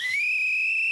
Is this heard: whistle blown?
yes